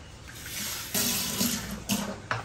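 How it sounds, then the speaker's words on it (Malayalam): Water runs from a tap in a kitchen for mixing bhatura dough with flour and eggs, a faint gentle flow with a few louder splashy surges, no talking. "വെള്ളം ആവശ്യമുണ്ടെങ്കിൽ ഒഴിച്ചാൽ മതി."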